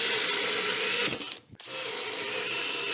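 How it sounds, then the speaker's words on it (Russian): A power drill fitted with a 68 mm Forstner bit spins at 2000 rpm with a loud, steady whir, which cuts out briefly midway and then resumes. "хочу попробовать, как будет сверл работать на 2000 оборотах."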